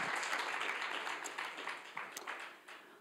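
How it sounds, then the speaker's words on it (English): Audience at a talk on regenerative living applauds a woman, a fairly faint, even wash of clapping that slowly tapers off over a few seconds. "So let's cheer her on one more time"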